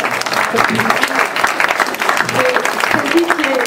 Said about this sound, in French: je crois qu'on peut l'applaudir aussi très fort